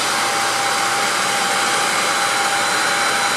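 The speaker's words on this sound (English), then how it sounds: "Allow that to dry, or dry it with a hair dryer." Hair dryer blowing on wet watercolor paint, a steady loud whirring hum with a faint tonal whine that runs unbroken from start to end, with no talking.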